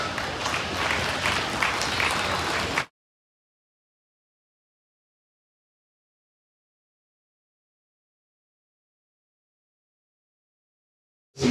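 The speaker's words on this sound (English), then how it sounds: "Please put your hands together and welcome Jimmy Davis to Phoenix." Applause and crowd noise at the Arizona National Junior Market Lamb Show in Phoenix welcome a sheep judge. It is a dense burst of clapping for about three seconds, then the sound cuts off abruptly into silence.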